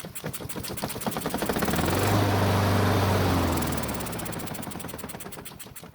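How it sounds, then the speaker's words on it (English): A small gas engine runs steadily on fuel poured straight into its carburetor, a loud, buzzing, rapid-firing drone that swells in the middle and then settles back. "the engine still ran on the gas that I physically put into the carburetor"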